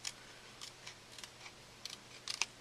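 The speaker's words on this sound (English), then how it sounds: "go ahead and cut out this whole image and cut out all 4 of the flowers" Scissors cutting out a printed paper flower image, a handful of faint, crisp snips spaced irregularly with a quick cluster near the end, close but quiet with no talking.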